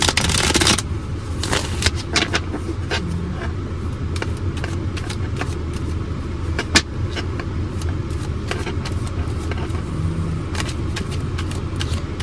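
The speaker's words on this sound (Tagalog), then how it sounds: "Balasahin muna po natin para kitang-kita nyo, no?" Tarot cards being shuffled close by, with repeated riffling and papery slaps in irregular bursts over a low steady rumble.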